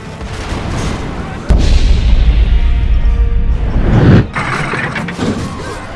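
A small bomb goes off in the AOS video game Pirates Treasure Hunter with a sudden loud boom and a sustained roaring rumble, then a second burst a few seconds later.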